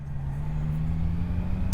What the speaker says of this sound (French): Ça c'est vraiment la joie du 3 cylindres de chez Triumph